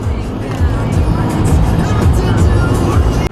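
A car driving on a road trip from Maryland to Ohio, heard from inside as a loud, steady low road rumble with engine hum throughout.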